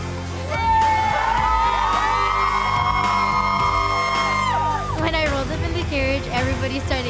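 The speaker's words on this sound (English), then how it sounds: "Everybody started cheering for me." Crowd cheering and whooping for a quinceañera girl arriving in a carriage, a loud sustained roar of voices with a long high yell rising above it, close and continuous.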